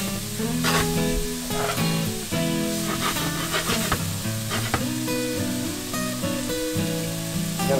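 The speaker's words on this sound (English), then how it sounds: "Gonna sweat them shallots down." Shallots sweat and sizzle in a pan while deer loin is cooked, a steady close hiss running under a bed of tonal background music.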